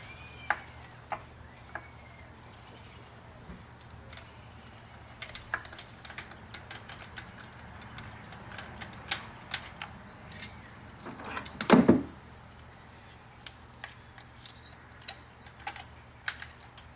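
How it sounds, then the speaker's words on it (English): Tools work a spark plug out of a Toyota Camry engine with light, scattered clicks and ticks spread over a quiet background, broken by one short, louder burst of metallic rattling partway through. "take the spark plug out."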